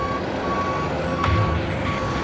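Heavy outback truck in reverse, its reversing alarm beeping in evenly spaced tones over a deep diesel rumble, with a short hiss of air brakes partway through.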